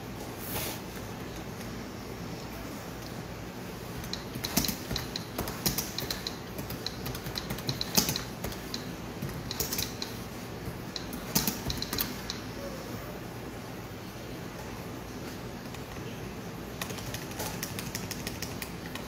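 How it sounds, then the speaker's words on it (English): Steady computer keyboard typing sound effect clatters for about twenty seconds, dense irregular key clicks with brief louder bursts, fairly close and with no talking over it. "Sorry for that typing noise."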